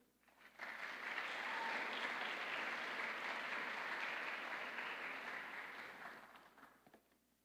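Audience at an honors convocation applauding awardees, a sustained round of clapping that swells quickly, holds steady for several seconds, then tapers off.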